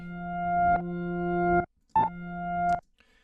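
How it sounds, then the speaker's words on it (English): Reversed piano chords, bounced to audio and heavily washed out with echo, swell upward and cut off sharply in two long phrases with a brief gap between, fairly loud and alone. "So as you can see, it basically sounds like this piano, but I just bounced it to audio."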